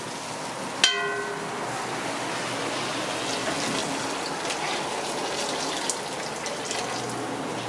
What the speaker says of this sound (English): Now he's gonna add some boiling hot water to it.